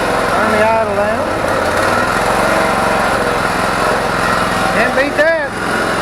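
A small new engine on an old garden tiller idles with a steady, buzzing putter, close and loud throughout, while someone talks briefly over it at the start and end.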